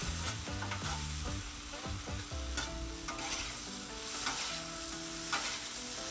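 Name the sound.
stirring Kung Pao chicken frying on Blackstone griddle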